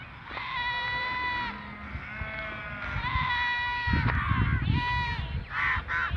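Several goats bleat in long, wavering cries, one after another nearby, with crows cawing in the background.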